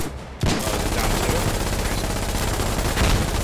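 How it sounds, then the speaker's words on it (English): Gunfire in the Foxhole war game hits a watchtower as a dense, loud burst of rapid shots that starts abruptly and keeps on as sustained fire throughout. "Alright, shoot that watchtower,"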